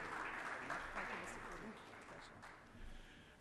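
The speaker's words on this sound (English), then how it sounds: "An iconic round of applause for the icon himself, Mr. Anuj Puri" Audience applause fills the hall for the keynote speaker at a real-estate conclave and awards evening, a steady, dense wash of clapping with crowd noise under it that eases slightly toward the end.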